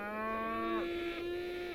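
Cattle in the city-building game Songs of Syx give a single drawn-out moo, a clear tonal low call that bends and holds for nearly two seconds, alone and moderately near.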